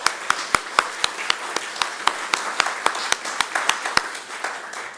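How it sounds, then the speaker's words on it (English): At a kickoff event, a small audience gives a sparse round of applause, with distinct individual claps landing in a loose, irregular rhythm, moderately close and fairly quiet. "Let's give them a round of applause."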